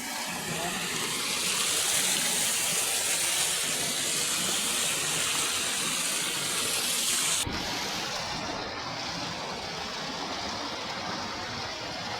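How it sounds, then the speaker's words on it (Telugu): Water gushing down a village waterfall makes a loud, steady broadband rush with no pauses, easing slightly for the last few seconds. "ఏంట్రా మీ ఊరు జలపాతం ఏంటి"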